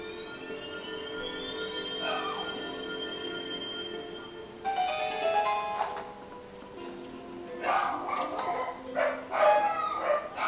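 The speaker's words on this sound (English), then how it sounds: "Sorry about the dogs in the background." Dogs barking in the background while The Legend of Zelda: Twilight Princess plays, with sustained game tones and chimes early on, then several short yips and barks clustered near the end at moderate distance.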